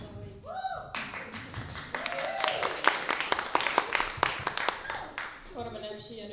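Audience applauding at a school spring concert, a burst of clapping that starts abruptly and runs for several seconds at moderate distance, with a voice speaking before and after.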